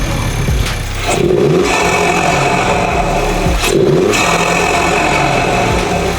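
An Audi engine with an aftermarket intake revs hard twice in neutral with a loud, throaty intake roar, each burst rising and falling back to a steady idle between.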